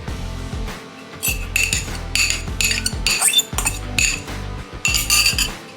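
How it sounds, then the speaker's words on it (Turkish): Cutlery clinks and scrapes against a bowl as whisked eggs are stirred for a fresh herb and mint omelette, a run of close, repeated metallic taps in uneven bursts with brief pauses. "Şöyle çırptığımız yumurtayı da karıştırıyoruz."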